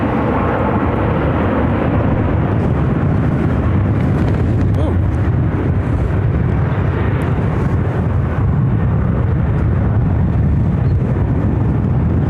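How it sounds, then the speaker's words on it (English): An American Airlines Airbus A321neo jet airliner arriving from Miami at Phoenix Sky Harbor gives a loud, sustained engine roar throughout, with voices heard over it. "It's American Airlines Flight 935 coming in from Miami on this Airbus A321neo."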